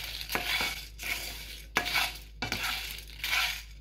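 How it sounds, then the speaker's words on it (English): Red chilies roast in a pan, stirred in a few quick scraping sweeps over a soft steady sizzle, close and fairly quiet, with short pauses between strokes. "Roast them for 1 more minute."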